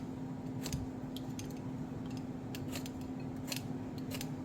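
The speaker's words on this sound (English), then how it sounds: "I'm getting ready to peel my peach here" A peach being peeled by hand for a low-carb dump cake, giving soft wet snipping and scraping sounds that come in short bursts over a steady low hum, close and fairly quiet, with no talking.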